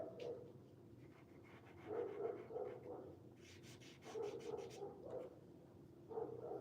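A dog panting and whimpering near a microphone, with short bursts of rhythmic breathing and a few soft bark-like yips across several seconds, fairly faint in a quiet room.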